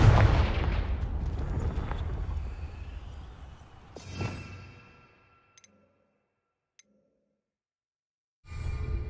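Confringo blasting curse in Hogwarts Legacy, a booming explosion that rumbles and decays over several seconds into near silence, followed by a few faint ticks and another low rumble at the end.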